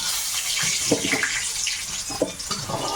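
Water is poured into a cooking pot over an outdoor village fire, a close, steady splashing gush with a few soft knocks and no talk.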